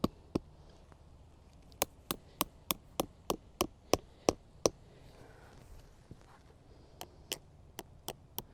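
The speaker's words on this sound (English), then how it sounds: "you can go ahead and hammer them into the ground" Sharp hammer taps drive plastic edging stakes into the ground in quick bursts, a run of about a dozen followed by a pause and a few more, close and clear over quiet.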